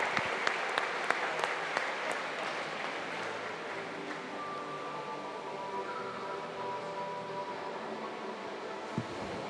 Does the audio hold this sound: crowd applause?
yes